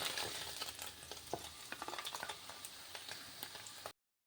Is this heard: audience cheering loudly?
no